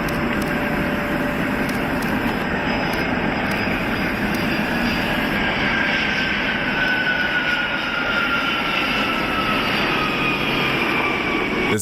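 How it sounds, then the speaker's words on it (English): A Boeing 767 jet at an air show in Slovakia, coming in low with a near tail strike, gives a loud, steady roar of jet engines that holds for the whole stretch, with a rising whine over the deep rumble. "This Boeing 767 almost had a tail strike."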